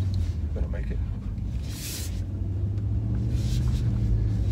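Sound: 2019 Honda Passport driving through deep snow, four-wheel drive engaging

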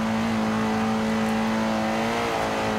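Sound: car engine revving in Forza Horizon 2 video game

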